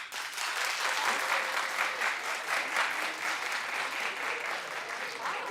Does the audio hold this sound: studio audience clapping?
yes